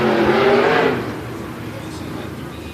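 Open-wheel race cars at a night event roar loudly past on track, a strong engine sweep in the first second fading into a steady distant drone, with an announcer talking over it.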